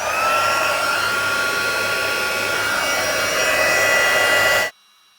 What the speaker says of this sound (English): So I'm going to heat this up and then we're going to melt that powder.